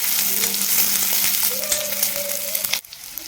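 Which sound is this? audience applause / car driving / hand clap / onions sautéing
onions sautéing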